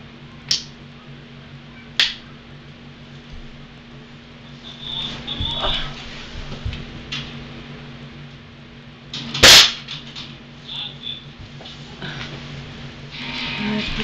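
A BB gun fires at a Shoot.N.C target, giving a few sharp, isolated snapping cracks spaced seconds apart with one louder report near the end, over quiet room tone and brief low murmurs.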